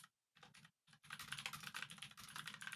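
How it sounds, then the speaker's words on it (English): Rapid computer keyboard typing, close and fairly loud, with a brief pause before a dense continuous run of key clicks. "I'm literally typing this out right now"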